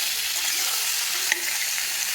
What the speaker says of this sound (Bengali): লবণ দেওয়ার পর সব সবজি একসঙ্গে কিছুক্ষণ ভাজবো, যেন সবজিগুলো ভালোভাবে ভাজা হয়ে যায়।